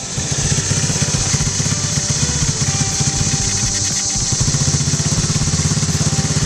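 A TAO pit bike, recently freed from a seized engine, idles steadily at close range with a loud, even, rapid chugging and a faint mechanical clatter, no voices over it.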